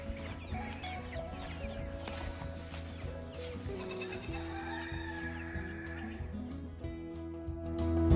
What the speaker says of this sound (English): You can hear the goats.